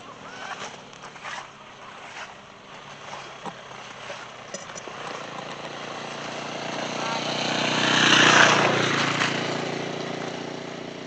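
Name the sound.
motorbike approaching and passing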